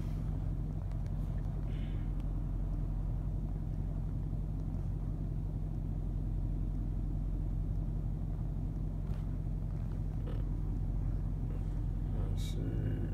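A Dodge Charger SRT8 pulls at highway speed, its engine a steady, deep rumble mixed with road and wind noise that holds constant from start to finish, with no clear rise in revs.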